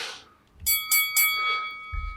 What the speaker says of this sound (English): we had to do a bell because now we're in round 2